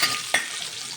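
Green peas and pigeon peas hit hot oil with a steady bright sizzle and one quick stirring scrape, close and alone with no voice.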